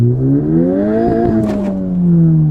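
A loud Honda car engine revs hard and rises in pitch as it accelerates, close up, with a brief clatter in the middle.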